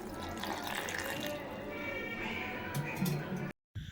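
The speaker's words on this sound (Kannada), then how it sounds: "ಸ್ವಲ್ಪ ನೀರು ಹಾಕ್ಕೊಳ್ಳೋಣ." Water running and splashing as it is poured from a tap or vessel into a mixer jar of ground bottle gourd with mint, ginger and cumin, a steady close trickle that continues beneath a voice talking.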